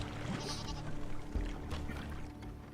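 Goats bleat softly over a steady background hum as they graze on wet grass along a shoreline, the calls low and intermittent rather than loud.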